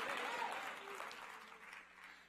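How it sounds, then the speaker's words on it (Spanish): Congregation applauding inside a church service, a steady wash of clapping that swells early and tapers off over a couple of seconds, fairly distant and soft. "Dele un aplauso al rey"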